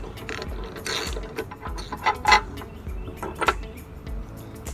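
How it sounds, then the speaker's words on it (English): A 1/2 inch ratcheting wrench backing bolts off a Briggs & Stratton lawnmower carburetor, rapid clicking pawl ratchets in short bursts with metallic clinks, close and moderately loud. "Next, you'll need to get your 1/2 inch wrench and take off these 3"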